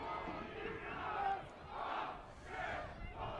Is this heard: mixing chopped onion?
no